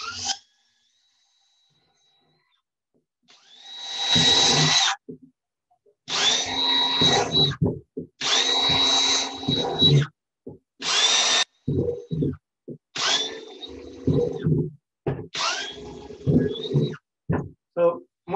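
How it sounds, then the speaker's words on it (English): Repeated bursts of a power drill whirring and grinding through a plastic bin, several spells of a few seconds each with short pauses between, close and loud. "So I'm just going to drill a few holes here."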